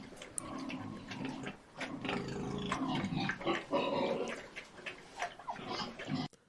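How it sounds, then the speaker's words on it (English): Pigs feeding make a busy stream of grunts, snuffles and chomping, fairly faint and continuous throughout, with no voices. "this is pigs feeding"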